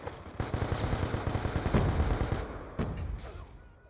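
Sustained automatic gunfire from Black Ops 2, a dense rattling burst of rapid shots that swells and then tapers off, with a few sharper single cracks near the end, loud and with no talk over it.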